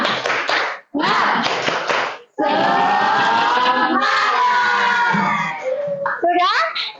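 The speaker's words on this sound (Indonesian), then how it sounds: "kita seperti biasanya, kita tepuk semangat ya" A class of children in a school lesson doing a rhythmic clapping chant, loud near claps and shouted voices in bursts with short pauses between, ending in a bright cheer.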